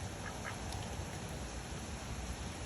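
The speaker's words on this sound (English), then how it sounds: "Hi, my little rain duck." A pet duck quacks softly a few times on a rainy morning, with faint, brief calls over the steady patter and hiss of rain.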